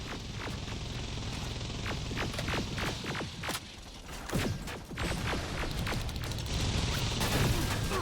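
Heavy gunfire from the video game Terminator Resistance crackles in rapid, irregular bursts, mixed with mechanical clanks and heavier impacts, a dense firefight that stays loud throughout.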